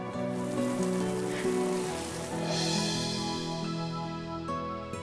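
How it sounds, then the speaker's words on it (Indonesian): Heavy rain pours down in a dramatic scene, a broad steady wash of noise beneath sustained background music, with no talk over it. "Loh, ini hujan deras."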